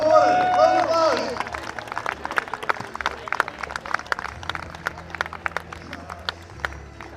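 Applause and clapping from a crowd at a Frisian horse breeding day, welcoming a new honorary member; dense, steady clapping with some cheering and babble runs through the whole stretch at moderate loudness, fading a little toward the end.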